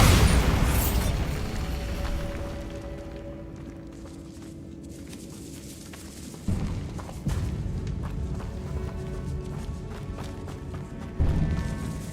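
Bombarda explosion spells go off in Hogwarts Legacy on PS5: a loud booming blast at the start, then two more sudden bursts later over a rumbling background of game noise.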